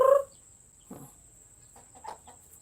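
A chicken clucks loudly once, then several softer clucks follow at uneven intervals, close by over a faint steady hum.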